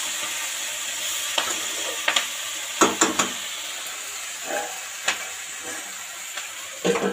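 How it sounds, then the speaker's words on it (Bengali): Onion, dried chili and five-spice sauté in a pan with a soft, continuous sizzle, broken by several sharp clinks and scrapes of stirring, close and moderately loud. "5 ফোড়ন, শুকনো লঙ্কা, পেঁয়াজ দিয়ে সাঁতলে নিচ্ছি"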